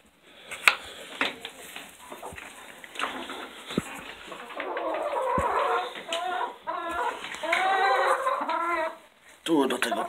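Hens cluck and call close by as bread scraps are tossed to them, a busy run of rooster-like clucks that grows denser halfway through, with a person speaking softly at times.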